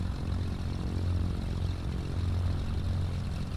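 Simulated Cessna 310R twin piston engine idling after start-up in a flight simulator, a continuous low droning hum with a steady propeller throb, even and moderately loud throughout.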